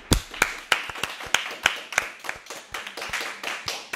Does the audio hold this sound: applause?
yes